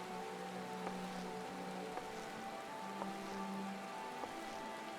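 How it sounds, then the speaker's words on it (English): Soft steady rain falling in Final Fantasy XIV, a continuous gentle patter on surfaces with a few faint ticking drops, heard alone at low level. "Perfect that it's raining."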